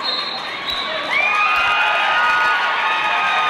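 Crowd excitement at a wrestling tournament's semi-finals on a mat: spectators cheer and shout, swelling louder after a second, alongside squeaky tonal sounds and scattered thuds in an echoing gym.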